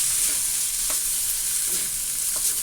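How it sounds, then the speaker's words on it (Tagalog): Bihon rice noodles stir-fry in a pan with a little oil, a steady close hiss of frying broken by a few soft stirring scrapes, no voices. "Lutuin natin mabuti ang bihon para masarap, para sumipsip."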